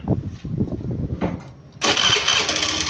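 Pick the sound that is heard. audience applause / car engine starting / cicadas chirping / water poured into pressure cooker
car engine starting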